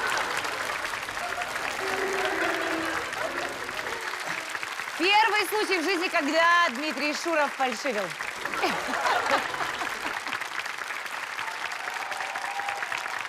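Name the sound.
studio audience applause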